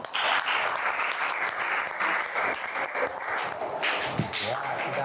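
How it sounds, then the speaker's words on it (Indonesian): A classroom group bursts into dense, lively applause for group 2 during an Islamic studies lesson, the clapping continuous and close for the whole stretch. "Ya, sudah untuk kelompok 2 kita tepuk tangan."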